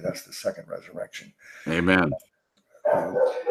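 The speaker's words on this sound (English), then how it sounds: "My neighbor, I don't know if you can hear the dog, but we have two barking dogs there." Two neighborhood dogs bark in the background while someone speaks during a Bible study; the barks are faint and mixed in under his talk and short pauses.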